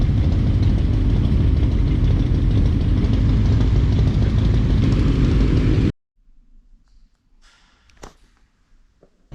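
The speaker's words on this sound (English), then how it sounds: "there's been just a fucking gang of motorcycles" Several motorcycle engines idle together in a steady, loud, dense rumble for about six seconds, then cut off abruptly, leaving near silence with a few faint, distant knocks and rustles.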